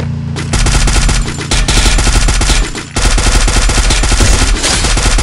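An MP40 Chromasonic submachine gun in a video game fires in loud, rapid automatic bursts with a raised rate of fire, pausing briefly between strings of shots.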